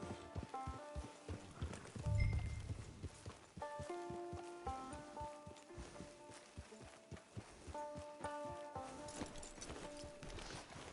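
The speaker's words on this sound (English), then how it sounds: "Get your horse." Horse hooves clip-clop at a walking pace in a PS4 video game, a rhythmic run of soft thuds under a bed of background music.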